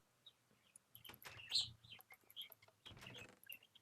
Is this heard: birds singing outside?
yes